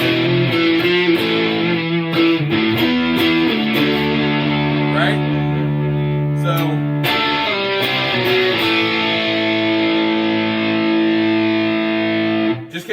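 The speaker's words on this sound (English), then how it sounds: "We can kick into a little bit of overdrive on it" A Squier Telecaster electric guitar played through overdrive rings out loud and close with distorted, sustained chords and picked notes, phrases shifting and held, with no voices over it.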